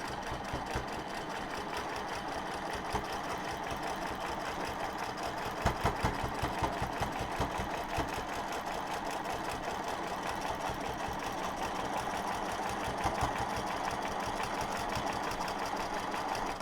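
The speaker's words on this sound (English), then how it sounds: "I'm just going to quilt around the top of my S." A sewing machine quilting around the top of a fabric letter S, its needle thumping in a fast, steady mechanical rhythm that speeds and slows in bursts over a low motor hum, close and continuous with no talk.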